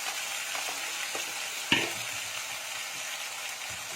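Ginger-garlic paste sizzling in hot oil for a Bengali mixed-vegetable curry, a steady close crackling fizz with one sharp clink of a spoon against the pan partway through and light stirring scrapes.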